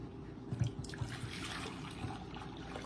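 Hot water taken off a stove and poured into a container, a faint soft trickle and dribble with a few small splashy knocks near the start, quiet and close against low room noise.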